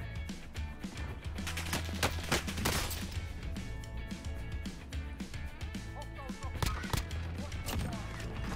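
Rapid gunfire rings out in Call of Duty Warzone, with sharp repeated shots in bursts over busy game sound and a voice talking over the action.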